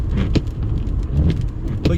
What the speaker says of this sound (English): a 6-lane roadway in here, so you got a lot of traffic up and down the roadway here